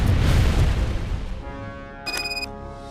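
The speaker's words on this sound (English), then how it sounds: "The grenade spam is crazy." Grenade explosion in the RoboCop: Rogue City video game, a loud, rumbling low blast that slowly fades, followed by a brief electronic ringing tone.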